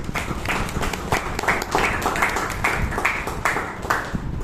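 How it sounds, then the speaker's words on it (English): Audience applause at a Bangalore Toastmasters meeting as the table topics master takes over, a steady patter of many hands clapping close by, continuous for several seconds with a few sharper individual claps standing out. "Please give him a round of applause."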